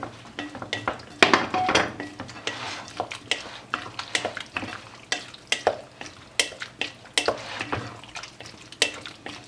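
Cooled boiled potatoes and garlic are mixed together in a bowl for a potato tortilla, giving close, rhythmic scrapes and clacks of a utensil against the bowl, with no voices.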